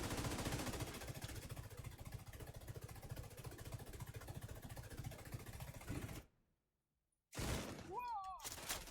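A Tinkerer LMG machine gun in The Division 2 fires a long, dense, rapid burst for about six seconds before cutting to silence, followed by brief electronic game sounds.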